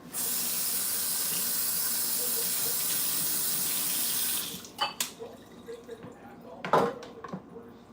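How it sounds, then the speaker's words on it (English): Tap water runs steadily onto a cutting board in a kitchen sink for several seconds, then cuts off, leaving a few drips and knocks as the board is handled, with no talking. "Now I'm gonna rinse this board on."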